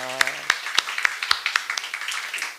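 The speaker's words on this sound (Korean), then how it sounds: "우리 박수로 환영하겠습니다" A church congregation at a Korean Sunday worship service claps to welcome a returning guest; after a brief voice, sharp separate claps ring out in a loose, fairly even rhythm, close and moderately loud.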